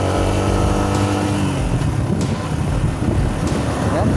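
A Yamaha Sniper 150 motorcycle engine runs at a low, steady pace while riding slowly, a constant rumbling drone close up with no sharp revving.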